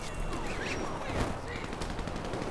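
Rapid bursts of gunfire from GTA V, dense and continuous like a fusillade, mixed with game noise throughout.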